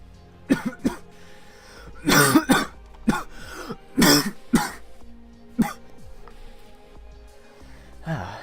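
Several coughs and throat clearings in scattered bursts, close and fairly loud, with short quiet gaps between them.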